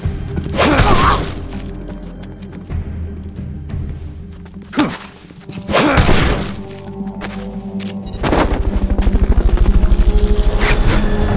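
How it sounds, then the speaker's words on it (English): A Fulton recovery helicopter in the video game Metal Gear Solid: Peace Walker, loud rotor thrumming with heavy thumps and whooshes, the chopping rising to a steady close beat at the end. "Recovery subject confirmed onboard helicopter. Fulton recovery helicopter is complete."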